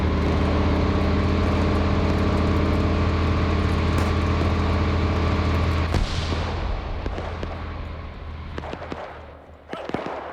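A tank's engine rumbles loudly and steadily in a World War II resistance-raid video game, with a constant low drone for about six seconds, then battlefield bangs and noise over a fading rumble.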